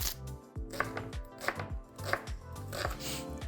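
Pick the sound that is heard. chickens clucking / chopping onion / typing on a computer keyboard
chopping onion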